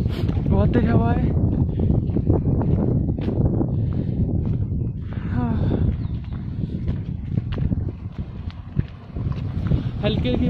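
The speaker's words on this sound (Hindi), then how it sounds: "बहुत तेज हवा है।" Strong wind blowing outdoors in snowy Dalhousie, a steady loud roar buffeting the microphone throughout, with a voice talking over it at times.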